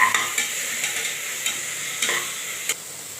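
Onions and tomatoes sauté in a pan for ghee tomato rice, with crisp, close stirring strokes recurring every half second or so over a light sizzle and no talking.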